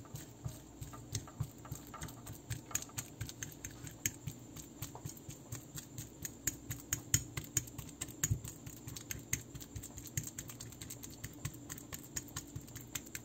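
Very ripe bananas are mashed with a fork in a bowl, a quiet run of soft, rapid taps and squishes repeating in an irregular rhythm, close up and with no talking.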